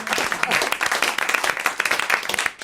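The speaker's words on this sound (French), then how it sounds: "Allez, on vous remercie, on vous applaudit" A studio audience at a French radio show breaks into lively applause, with dense, continuous clapping and a few louder individual claps that hold steady for a couple of seconds before trailing off.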